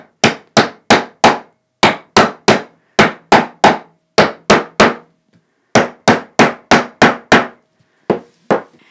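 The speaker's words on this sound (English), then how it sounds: "I'm going to grab my hammer and bang them in a little bit lower" Hammer strikes driving staples flush into a padded quilter's pressing board covered in batting, sharp, close and loud, in quick bursts of three or four blows separated by short pauses, with no talk.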